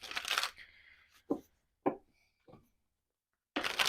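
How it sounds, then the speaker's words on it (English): Cards riffle in two brisk, crisp bursts at the start and end, with a few sharp taps and a faint whir between them in a quiet room. "I'm just going to give these cards a shuffle"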